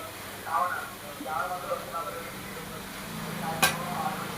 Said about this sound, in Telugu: ఆల్మోస్ట్ బెల్లం గవ్వలు మనకి ఫ్రై అయిపోయి, అంటే వేగిపోయి.